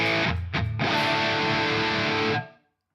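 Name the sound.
electric guitar humbucker pickup through Quad Cortex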